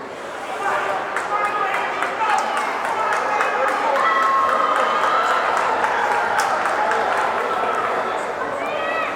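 Crowd at a high school ice hockey game, Somerset Berkley vs Nashoba, cheers and claps across the rink, a sustained roar with skate and puck clicks.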